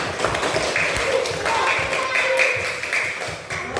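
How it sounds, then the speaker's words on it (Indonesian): Students in a classroom clap after a presentation, a scattered, uneven patter of hands at moderate loudness, with a voice talking over part of it. "Tepuk tangan dulu untuk kita semua"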